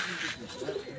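Teddy pigeons coo softly amid a steady background hiss, a low murmuring call repeating briefly at close range, no voices over it.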